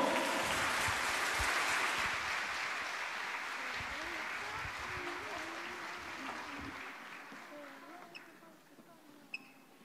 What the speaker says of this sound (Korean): 박수 소리가 끊어지면 안 될 것 같은데요.